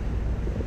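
Breezy wind buffets the microphone outdoors, giving a continuous low rumbling whoosh over the whole brief moment with no other clear sounds.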